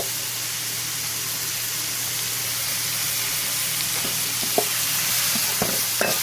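Pepper chicken masala sautés in a hot pan with a continuous broad sizzle, a few brief scrapes of stirring near the end, no voices.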